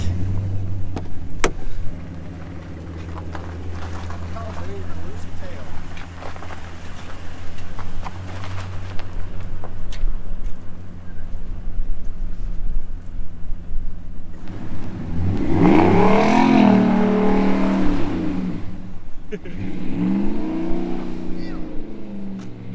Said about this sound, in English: it's just like a nice motor sound